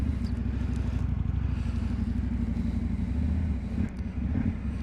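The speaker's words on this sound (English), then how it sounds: "All right, it's just got the stock exhaust." An Indian motorcycle on its stock exhaust idles close by, giving a steady, dense low engine rumble that holds level throughout, with a short dip near the end.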